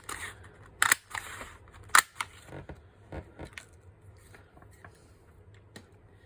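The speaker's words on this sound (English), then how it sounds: "I'm going to cut three circles." Scissors snip paper circles for notepads, giving scattered crisp cuts with a couple of sharp louder snips among quieter rustles and clicks, close by in a quiet room.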